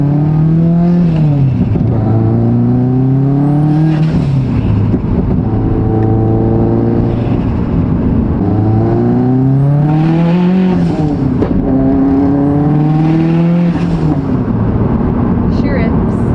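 A Subaru STi engine revs repeatedly, the pitch climbing and falling in several loud, close bursts with steady idle between them, while people talk over parts of it.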